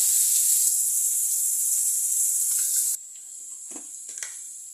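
Three big chopped onions hit hot oil for an egg masala and fry with a loud, steady hiss. The sizzle abruptly drops to a softer hiss with small pops and crackles.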